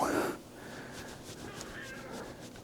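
A cat meows once, briefly and fairly close, at the very start, followed by quiet room tone with faint breathy sounds.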